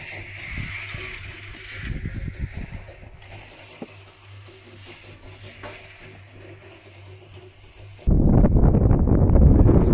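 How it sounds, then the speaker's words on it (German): Wind blows outdoors by a river on an island, rushing and buffeting the microphone, then swelling into a loud, roaring gust near the end, with no voices. "Jetzt merkt man den Wind."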